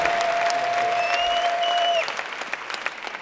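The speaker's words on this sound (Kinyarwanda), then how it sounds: "mumukomera amashyi mwe kuyamuhera" A church congregation claps together in a sustained burst of applause, with a thin steady tone ringing through the first two seconds before the clapping thins into scattered hand claps.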